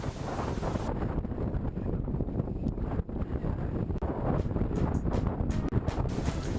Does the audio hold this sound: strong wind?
yes